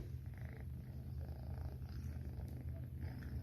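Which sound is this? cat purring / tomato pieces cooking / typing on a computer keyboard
cat purring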